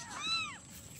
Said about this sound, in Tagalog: kitty o pusa